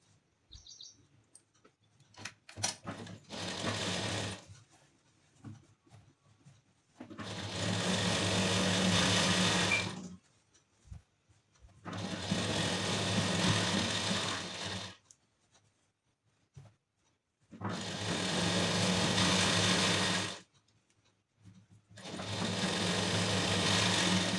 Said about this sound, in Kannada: ಮೇನ್ ಫ್ಯಾಬ್ರಿಕ್ ಎಜ್ಜಲ್ಲಿ ಒಂದು ಕಿನ್ನರಿ ಸ್ಟಿಚಿಂಗ್ ಹಾಕೊಳ್ಳಿ.